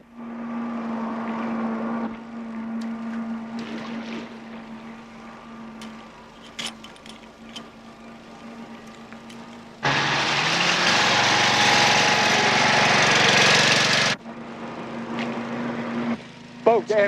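A low engine drone hums steadily, then a loud broadband roar of a motorboat surges for several seconds before dropping back to the idling hum.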